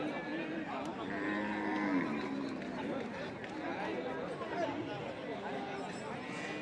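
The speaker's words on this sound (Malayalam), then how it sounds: "പല ടൈപ്പിലുള്ള പശു മൂര് കാള എല്ലാം ഉണ്ട് ചന്തയിൽ" Cows, bulls and crossbred calves stand at a busy livestock market, with cattle lowing repeatedly amid steady crowd chatter and people talking nearby, moos rising and falling over a constant murmur of voices.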